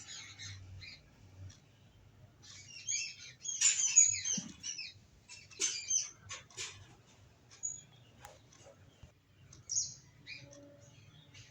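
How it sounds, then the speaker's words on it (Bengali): Many birds chirp and squawk among the trees beside a village courtyard in the early morning, with bursts of calls from several directions and a low background hum, and no talking. "চারিদিকে পাখিদের ডাক শোনা যাচ্ছে"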